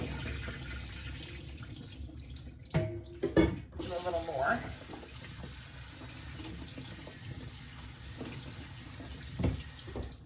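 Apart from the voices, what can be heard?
tap water running while rinsing food in sink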